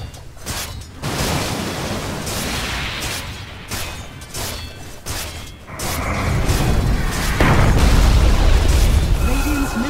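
A tower crumbles in a Dota 2 match, with heavy booming crashes and bursts that swell louder toward the end over a busy mix of game effects, with no talking.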